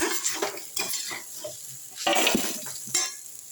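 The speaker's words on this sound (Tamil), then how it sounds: "நல்லா கிண்டி விட்டுடலாம் அடி பிடிக்காமல் பார்த்துங்க" A spoon stirs spicy palmyra sprout puttu in a pan, with scrapes and clinks against the metal in irregular bursts over a faint sizzle, close by.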